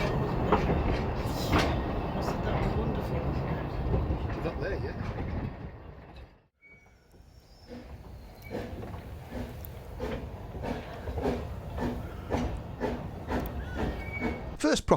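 A steam train on the narrow-gauge Talyllyn Railway runs up the line through lowland fields, with a steady rolling rumble and clicking wheel beats. The sound briefly drops away midway, then returns.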